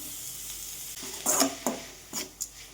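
Chopped tomatoes sizzle quietly in a pan for Bombay chutney while a utensil stirs and scrapes through them in a few short, uneven bursts.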